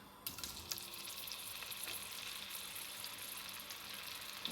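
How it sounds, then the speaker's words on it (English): Guanciale frying in hot olive oil gives a steady, close crackling sizzle that holds at an even loudness throughout, with no talking over it. "Hot on the heat, olive oil. Put in our guanciale."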